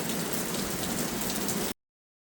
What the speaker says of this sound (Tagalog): Ang lakas ng ulan, mga idol.